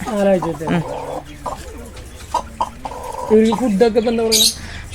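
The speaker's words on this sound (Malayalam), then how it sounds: "നാലാഴ്ച എത്തിയ കോഴിനെ" Four-week-old chickens cluck and squawk repeatedly in short bursts, close by and fairly loud, with brief sharper calls near the end.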